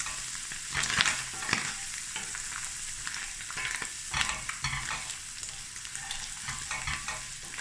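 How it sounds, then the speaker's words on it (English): Vienna sausages and egg spiced with turmeric and masala fry in a pan, a steady close sizzle broken by the scrape and clatter of stirring, with no voices. "So we fry this lekker Nadia,"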